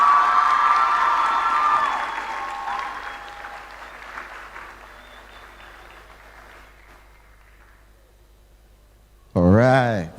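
Graduation crowd at a technical high school ceremony applauding and cheering, loud at first then gradually fading into scattered clapping, ending with a brief amplified voice over the hall.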